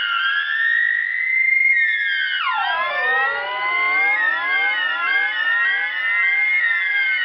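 Homemade dub siren built around a 555 timer chip, a loud electronic tone that holds steady and then swoops sharply downward into a cascade of overlapping falling and rising sweeps, heard alone.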